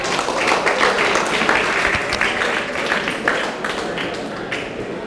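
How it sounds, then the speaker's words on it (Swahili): Audience applause at a centenary celebration event, a broad, sustained wash of many hands clapping at steady loudness for several seconds, with scattered voices mixed in. "Aya, tumpatie makofi sasa."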